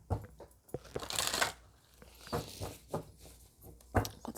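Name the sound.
shuffling a deck of grace oracle cards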